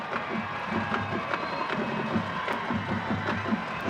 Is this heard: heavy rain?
no